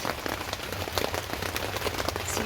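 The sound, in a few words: rain falling on a garden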